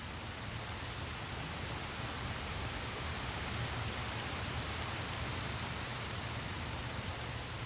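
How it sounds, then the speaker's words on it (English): Steady, even rain pours down at the start of the African rainy season, a dense continuous hiss of drops with no voices and no breaks. "Everyone has eagerly awaited the beginning of the rainy season."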